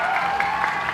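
Crowd applauding and cheering for the winning team at the GPL Spring 2017 esports event, a dense, steady wash of clapping that fills the whole moment at close range.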